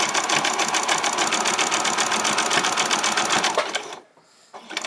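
A sewing machine runs a zigzag stitch along the leg edge of ruffled-bottom fabric shorts. Rapid, even mechanical stitching goes on for about four seconds, then stops abruptly, leaving near quiet.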